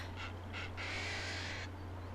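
A bird in a Nancy Drew video game, set at Kapu Cave, gives two short hoarse calls and then one longer drawn-out cry over a steady low hum.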